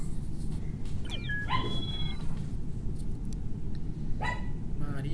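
Several people imitate dog barks, yips and whimpers over a game voice chat during Crash and Among Us, short bursts scattered over a steady low background hum.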